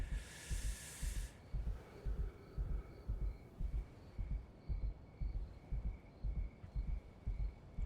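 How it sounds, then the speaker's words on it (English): A heartbeat sound effect in the video game Schedule 1 thumps in a steady, deep, regular rhythm throughout, with a faint hum behind it and a brief hiss at the start. "I can literally hear my heart beating."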